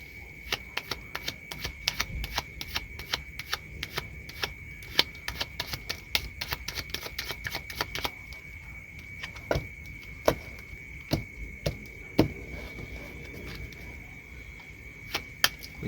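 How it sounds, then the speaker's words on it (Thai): Playing cards shuffled during a close-up magic trick, a rapid run of crisp riffling clicks followed by slower, spaced card snaps, close and fairly loud with no talking. "จะทำการสับไพ่คุณ"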